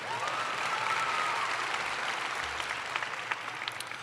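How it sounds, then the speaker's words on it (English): Audience at a 2025 Clayton High School commencement ceremony claps steadily, a broad even wash of applause filling the hall without a break, with a few sharper individual claps standing out near the end. "We can clap for that."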